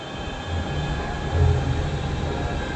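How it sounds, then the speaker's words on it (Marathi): A metro train in Pune rumbles steadily, a low continuous roar with a faint high whine, swelling slightly as it draws in. "ती मेट्रो आली आहे आता"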